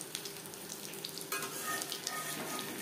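Katla fish frying in a pan over a moderate flame, a soft, steady sizzle and crackle that swells louder about halfway through, quiet and close.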